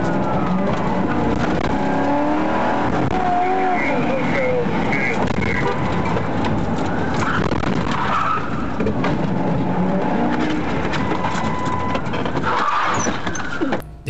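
A stolen police patrol car accelerates away with tire screech and engine roar, heard continuously alongside overlapping voices and a radio call, with a faint siren-like tone in the mix.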